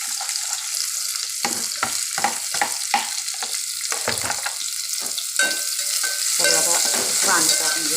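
Onion frying in a pan alongside roasted chillies, with a steady bright sizzle and intermittent scraping stirs, loud and close, no voices.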